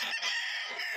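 A rooster at a busy pet market gives a short burst of clucking and crowing, close and fairly clear above faint background noise.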